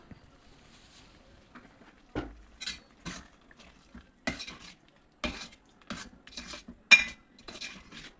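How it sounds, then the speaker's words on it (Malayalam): Spoon mixing a Kerala taro (chembu) dish after coconut oil is poured in, with intermittent clinks and scrapes of metal against the pan after a quiet start, close and moderately soft. "ഒരു ടേബിൾ സ്പൂണോളം വെളിച്ചെണ്ണ ഒഴിച്ച് നല്ല പോലെ മിക്സ് ചെയ്യണം"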